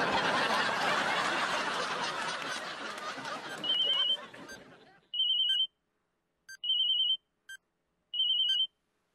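A telephone rings in a Hindi TV comedy scene. Several short electronic ring bursts with gaps between them follow a wash of busy crowd noise and chatter that fades out.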